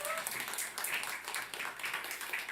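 A church congregation applauds, bursts of clapping that swell and fade over a couple of seconds, fairly close and lively.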